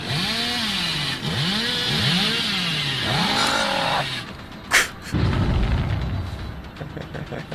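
A chainsaw in the horror game Dead by Daylight revs in repeated rising-and-falling surges for about four seconds, loud and close, then cuts out into a burst of thuds and rumbling game noise.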